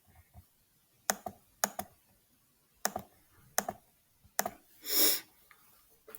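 Sharp computer mouse clicks come in a quiet room, single and paired taps spaced irregularly, close and fairly faint, followed by a short breathy noise.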